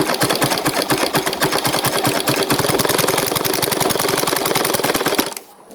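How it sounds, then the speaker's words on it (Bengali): A sewing machine stitching the neck band of a dress runs in a fast, steady, close mechanical rattle for about five seconds, then stops abruptly, with no talking. "আমি এখন শুরু করব জামা সেলাই"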